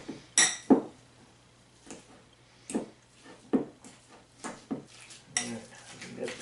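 Crab rangoon filling being mixed in a bowl, with a utensil scraping and clinking against the dish in irregular knocks and taps, close and fairly loud over a low steady hum.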